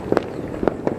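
Fireworks at a New Year 2022 celebration in Bekasi, heard as three quick distant pops and crackles over a steady outdoor rumble, with no voices.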